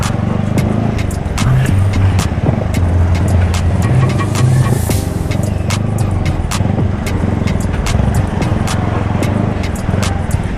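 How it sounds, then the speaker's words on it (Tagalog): Road traffic on a rainy night during a tropical storm, with a continuous engine drone close by, tyre hiss on wet pavement and repeated sharp knocks throughout. "Traffic oh."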